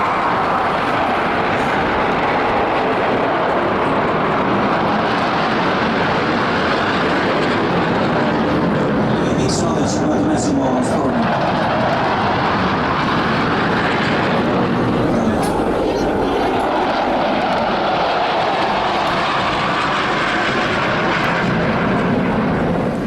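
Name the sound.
jet aircraft engine roar flying past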